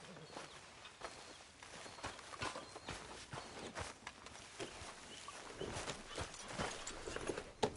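Soft, quiet hoofbeats of a horse in the video game Red Dead Redemption 2 clop along in an uneven walking rhythm, with faint ambient noise and no voices.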